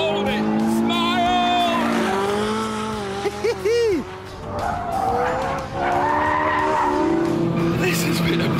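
Ferrari 458 Italia drifting on a runway, its engine wailing and shifting in pitch while the tires squeal loudly through the slide, and someone speaks urgently over the noise.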